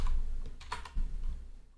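Keys clatter on a computer keyboard as a short Linux terminal command is typed, a quick run of soft clicks over a steady background hum.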